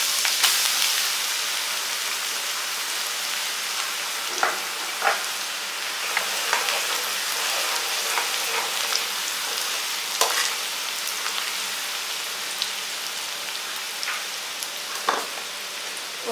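Garlic fries in hot oil with popped mustard seeds and fenugreek seeds for a tomato pickle, a steady loud hiss and crackle with occasional sharper pops, close up and continuous without talk.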